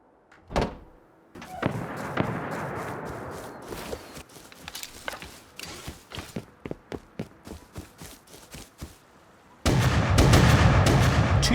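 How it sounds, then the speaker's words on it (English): Shotgun raiding in the survival game Rust heard from a distance: a string of irregular, muffled blasts and thuds spaced over several seconds, moderately loud, followed by a sudden steady burst of louder noise at the end. "Someone's shotgun raiding in the distance."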